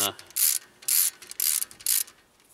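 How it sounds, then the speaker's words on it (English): A 12-point socket on a ratchet draws in the hub bolts on a vehicle during a pads and rotors job, giving four short bursts of rapid clicking with brief pauses between, close and moderately quiet. "now I just draw it in with my 12 point socket"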